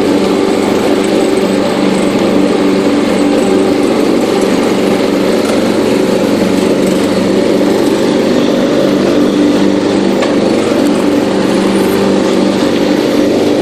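A John Deere 210 lawn tractor mows in the rain, its small engine droning steadily and loudly up close without a break, with no talk over it.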